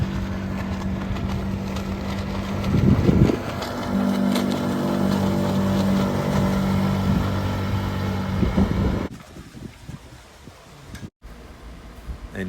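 A stretched skiff motorboat makes a full-speed pass on the water, heard as a steady engine drone with hull and water noise, a louder surge mid-pass, then dropping to quieter wind and water as it moves away; no talk.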